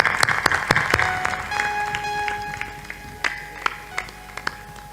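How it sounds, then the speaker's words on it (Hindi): Scattered audience clapping at a spiritual discourse gathering comes as a brief burst of claps that thins out into a few isolated, uneven hand claps. "जरा खड़े हो जाओ, ताली बजा दो उनके।"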